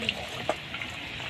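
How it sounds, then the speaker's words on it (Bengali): Homemade ghee cooked from milk with a bel leaf simmers in a pan while being stirred, giving a soft, steady bubbling hiss with a couple of faint utensil taps. "এইরকম ভাবে ঘিটা নেড়ে নিতে হবে"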